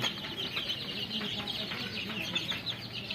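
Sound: Fayoumi chicken chicks

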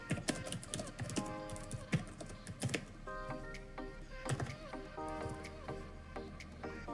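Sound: typing on a computer keyboard

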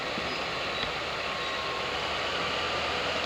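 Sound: locomotive shunting at a depot

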